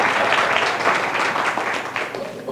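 Audience applause at a press conference for the Browne Aquatic and Recreation Centers, a steady wash of many hands clapping at close range, holding even in strength for the whole stretch with no voices over it.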